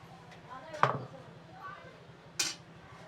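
Knife slicing through steamed alu vadi, colocasia rolls, on a board: two sharp distinct chopping knocks about a second and a half apart, fairly close, over a low background hum.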